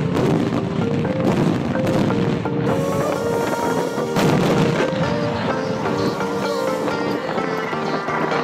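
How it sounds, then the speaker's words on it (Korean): Repeated booming bursts and crackling pops of daytime fireworks going off, dense and continuous, with a tonal whine mixed in and a faint voice underneath. "낮에 하는 불꽃놀이 어떤가요?"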